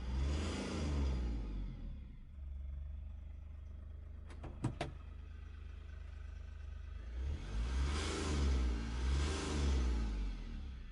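An Ashok Leyland Dost light truck engine revs up twice, rising and falling in strong surges at the start and end with a steady idle between and a brief mechanical clicking in the middle, close and loud, no talking.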